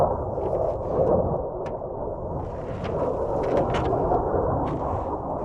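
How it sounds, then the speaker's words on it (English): Navy jets passing overhead outdoors, a loud sustained low roar that rumbles on throughout with a few faint higher ticks and rustles on top. "so if you hear the jets in the background"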